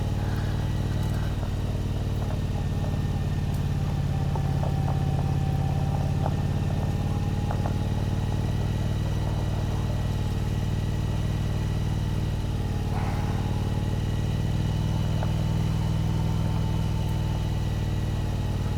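Motorcycle engine running steadily while riding downhill, a low continuous drone with slight rises in revs, fairly faint and constant with no clear talk.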